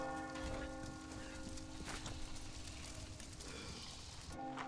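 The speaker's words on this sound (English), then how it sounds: "But the church bells." Church bells toll in the video game Resident Evil 4 Chainsaw Demo, with sustained ringing tones over a busy game soundscape of hoof-like clatter and crackling ambience.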